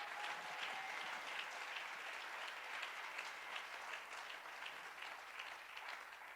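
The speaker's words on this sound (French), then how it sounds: "Je vous demande quand même de l'applaudir d'une manière vraiment digne." Steady, dense audience applause fills a hall for an evangelist, holding at an even level throughout with no speech over it.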